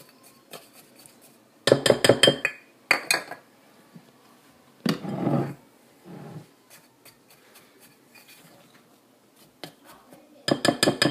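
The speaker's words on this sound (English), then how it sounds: "I'm gonna mix it well together first." Baking soda and cornstarch mixed in a bowl for homemade deodorant: several quick bursts of a utensil clinking and scraping against the bowl, separated by quiet gaps, with softer brushing stirs between.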